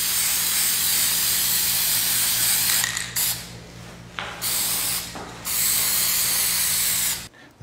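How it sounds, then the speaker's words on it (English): Lacquer is sprayed as a second coat onto a wood carving: a loud, steady hiss broken by several short pauses, then cut off abruptly near the end. "I'm just going to put a second coat of lacquer on."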